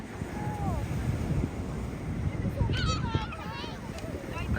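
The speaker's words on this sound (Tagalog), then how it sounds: "Ang lakas ng alon." Strong waves rolling and crashing at an uncrowded beach, a steady loud wash with wind buffeting the microphone, while people talk and children's voices sound in the background.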